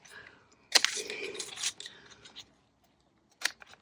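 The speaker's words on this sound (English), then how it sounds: "I am going to cut this piece here because this was our extra bit here. So I'm just going to cut it off." Scissors snip off an extra piece of a no-sew journal cover: a crisp cutting burst of about a second, then a short second snip after a pause, close and fairly quiet.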